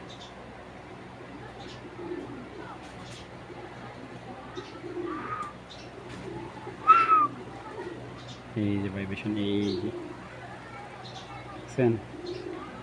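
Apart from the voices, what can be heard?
pankhi pigeon cooing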